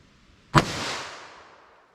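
A single sharp gunshot from a .38 Special revolver with a 4-inch barrel, firing a handloaded 158-grain lead semi-wadcutter hollow point over power pistol powder, cracks out once, followed by a long fading echo.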